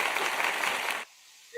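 Applause sound effect: a dense burst of crowd clapping for about a second, then cutting off abruptly into near silence.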